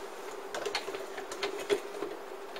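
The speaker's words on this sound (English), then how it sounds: "zigzag stitch, I'll just move that over to about 3, move that on to C. You'll see that the needle will actually move." Sewing machine running a zigzag stitch with the needle swinging side to side, a faint, close, rapid ticking and clattering over a steady motor hum, with one slightly louder knock near the end.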